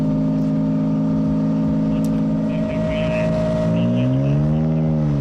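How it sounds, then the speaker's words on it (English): A hydrogen-powered car engine hums steadily, then revs, its tone rising and swelling in a few clear sweeps toward the end, loud and close. "it sounds like a combustible or internal combustion engine, or it is part internal combustion that maybe uses hydrogen"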